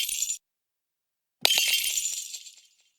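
A glass-shard breaking impact sound effect processed with delay: a short bright tinkle, a gap of silence, then a sharp crash of shattering glass whose scattered fragments ring on and fade over about a second, crisp and close with no speech.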